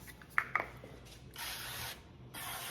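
A can of cooking spray hisses in two close bursts of about half a second each, after a couple of faint clicks from the nozzle. The sound is near and moderately quiet, with a small room behind it.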